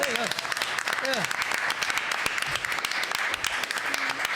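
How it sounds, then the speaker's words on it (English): Festival audience applauding a band at Long Division in Leeds, a dense steady clatter of clapping with a few cheers and whoops rising over it, fairly close and sustained throughout. "Shall we give them a round of applause?"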